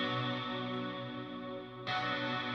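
Layered, effected guitar enters for a pop pre-chorus and chorus, a sustained shimmering chorded texture with distortion and chorus effects, thickening with a brighter swell near the end; no voices.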